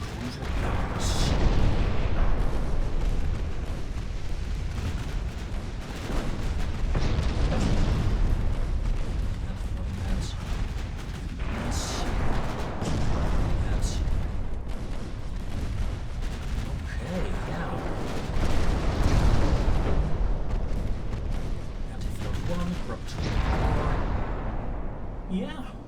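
Warships trading fire with 11-inch guns in a naval battle game, with repeated heavy booms and rolling blasts coming in waves over steady battle noise while someone talks over it.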